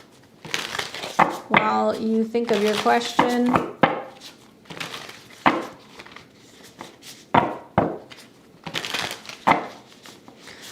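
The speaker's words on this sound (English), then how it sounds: "I will shuffle the deck" A deck of tarot cards being shuffled during a live reading, several bursts of riffling and slapping cards with short pauses between them, plus a sung passage early on and a few spoken words over it.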